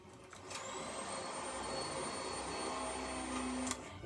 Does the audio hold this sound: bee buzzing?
no